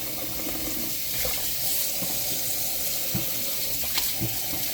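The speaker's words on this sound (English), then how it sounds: "So now I have my bowl, which I'm going to fill with water." Tap water runs steadily into a bowl used for washing chitterlings, a continuous splashing fill with a few small clinks and knocks, heard close and alone.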